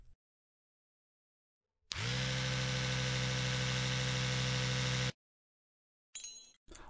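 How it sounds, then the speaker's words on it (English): A dental polishing instrument buffs a tooth filling in the Surgery Squad tooth filling simulator game, a steady loud electric buzz lasting about three seconds between stretches of silence. "go ahead and polish the filling using a polishing instrument"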